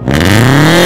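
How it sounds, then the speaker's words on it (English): A Subaru BRZ or Scion FR-S engine revs hard and climbs steadily in pitch, loud and close, with no voices over it. "He's gonna be revving the car."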